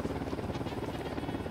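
A helicopter flies in the video game Ghost Recon Wildlands, a steady droning rotor and engine hum held evenly throughout, moderately distant and quiet.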